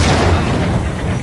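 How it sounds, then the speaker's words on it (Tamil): Grenade blast in the video game Max Payne, a loud, dense, booming roar that fills the whole short moment with no break and no voices. "கிரனேட் தூக்கி போடும்."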